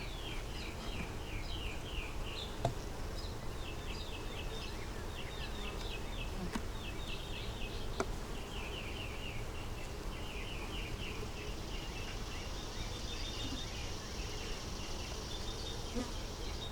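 Steady dense buzzing of a honeybee swarm split beside a big swarm, a continuous hum of many bees close by, with faint bird chirps and occasional clicks over the drone.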